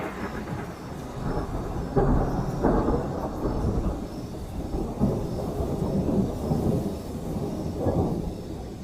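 Heavy jungle thunderstorm with rolling thunder and steady pouring rain, loud and continuous, with deeper rumbling surges around the second and second-to-last moments; no voices.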